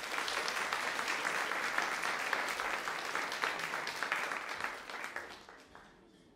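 An audience at a music school's end-of-year concert claps steadily in a dense wash of applause that holds for several seconds, then thins and fades out.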